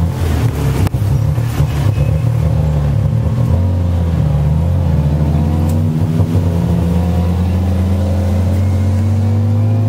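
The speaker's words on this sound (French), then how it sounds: "On est dans un tuk-tuk thaïlandais." A Thai tuk-tuk, a three-wheeled motorcycle pulling a trailer, roars loudly and continuously, its engine revving and droning up and down close by for the whole stretch.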